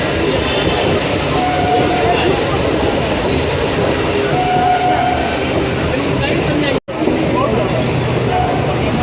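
A passenger train near Jadavpur station in Kolkata runs along with a steady loud rumble and rattle, heard from a window seat inside the carriage, with faint voices and a brief dropout near the end.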